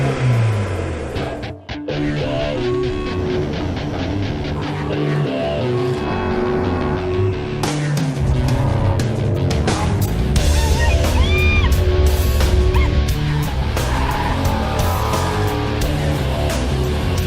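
A Ford Mustang GT350 race car on a hot lap roars continuously from inside, engine revving up and down through gear changes, with brief high tire squeals and occasional shouts.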